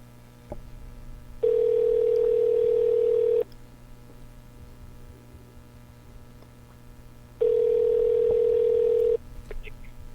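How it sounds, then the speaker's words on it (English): A telephone call rings out on the line: two long, steady electronic ring tones a few seconds apart, each lasting about two seconds, with a quiet hum between them. "Let's see if Copper Dan answers"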